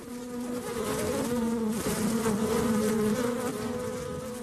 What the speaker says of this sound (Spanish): analizamos su comportamiento gracias al sonido que emite la colonia en la colmena, denominado el canto de las abejas obreras